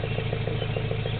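Nissan S13 fitted with a KA24DE engine and a dual 3-inch straight-pipe catback exhaust with 3-inch tips, idling with a loud, steady, rhythmic low burble heard up close.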